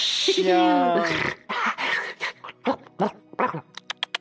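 A dog whimpers and groans with whiny vocal sounds at the start, then someone talks in French over a few short clicks and movement noises.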